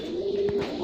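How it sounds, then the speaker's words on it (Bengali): A sky-blue golla pigeon gives a single short, soft coo close by, under a faint hum of background noise. "দেখেন একদম অ্যাক্টিভ এক জোড়া কবুতর।"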